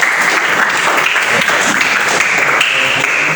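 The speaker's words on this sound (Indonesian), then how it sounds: "tepuk tangan untuk kita semua" A classroom full of people claps together during an Indonesian school lesson after singing the national song. The applause is steady, dense and loud throughout, with no talk over it.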